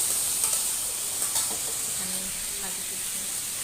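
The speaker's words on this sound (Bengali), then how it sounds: "এরকম নাড়াচাড়া করছি ভালোভাবে" Fried rice sizzles in a pan while it is stirred. A steady close hiss carries a few scraping stirs, with no voice over it.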